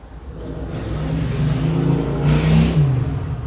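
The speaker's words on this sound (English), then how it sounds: "There he goes, motorcycle." A motorcycle passes nearby, its engine rising in a revving growl that swells louder toward the middle and then holds steady.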